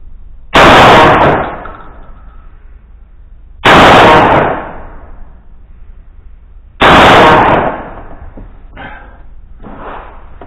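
Three loud, sharp gunshots from a Verney-Carron Matrix firing slug rounds at an outdoor shooting range, evenly spaced about three seconds apart, each with a short decaying echo, followed by faint handling noises.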